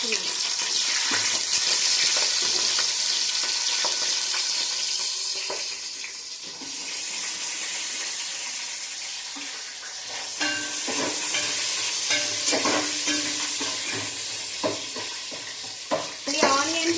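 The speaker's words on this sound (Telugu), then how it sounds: "పచ్చిమిర్చి అయితే వేసేసుకుంది ఆనియన్స్ కూడా వేసేసుకున్నాం" Onions and green chillies frying and being stirred in a pan, a steady loud sizzle with scraping stir strokes and clinks throughout, near and continuous.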